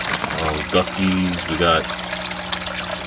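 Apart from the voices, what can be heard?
water pump pouring water into aquaponics fish tank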